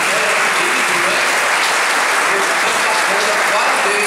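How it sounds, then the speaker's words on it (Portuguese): Church congregation applauding a small boy during a Sunday homily, a dense, steady wash of many hands clapping throughout, with faint voices beneath. "dá uma salva de palmas aqui pro Diego"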